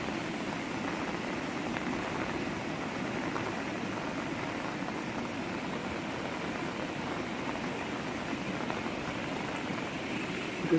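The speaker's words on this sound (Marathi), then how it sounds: "पाऊस कालपासून पडतो आहे" Steady, dense broadband wash of heavy monsoon rain and flooded river water flowing over a bridge road, constant and enveloping with no pauses.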